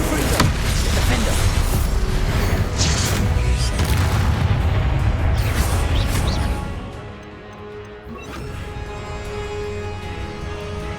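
Booming magical explosions from the Confringo blasting spell in a fantasy video game, a dense, loud rumbling barrage that drops to a quieter ringing tail with a faint voice underneath.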